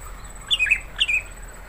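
A green leafbird (cucak hijau), a mimic of other birds' calls, gives two short, bright chirping phrases close by, separated by a brief pause, with no other sounds around.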